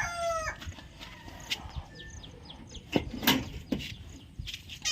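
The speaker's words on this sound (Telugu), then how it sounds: "చూడండి కోళ్ళు ఎట్లా వస్తున్నాయి," Native country chickens in a poultry shed cluck in scattered bursts, with a rooster's crow near the start, fairly faint and close by, and no voices.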